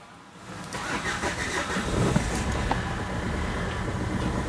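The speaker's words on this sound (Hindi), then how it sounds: "अभी पेट्रोल सुंघाया तो गाड़ी स्टार्ट है, रेस दे रहा हूँ कहीं बंद ना हो जाए" After petrol is sniffed into it, a diesel Renault Duster's engine fires up and is held at raised revs, a rough, close, steady roar with slight rises, and no one speaks.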